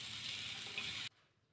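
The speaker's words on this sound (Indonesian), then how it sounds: "Lanjut aku goreng nih ya bumbunya ya di wajan andalan aku nih ya" Spice paste and carrots frying in a wok for a stuffed tofu snack: a soft, even sizzle that crackles steadily for about a second, then cuts off abruptly into near silence.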